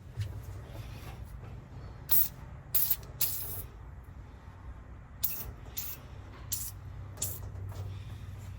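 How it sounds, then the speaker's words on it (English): Short bursts of penetrating fluid sprayed from a can onto a very rusty stuck part, about seven quick hissing spritzes in irregular succession, close and fairly quiet over a low background rumble. "I'm going to put some penetrating fluid on this first"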